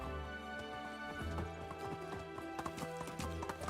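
Horse hooves clip-clop in a quick steady rhythm in Medieval Dynasty, close by over a humming game backdrop, with no talk.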